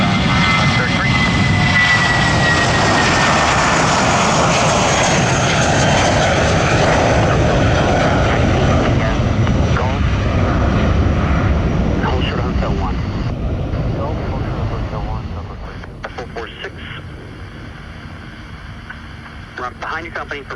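A JetBlue airliner roars down runway 17 right at Orlando International Airport on its takeoff roll, a loud, steady jet engine rumble that holds for about fifteen seconds and then fades as it climbs away.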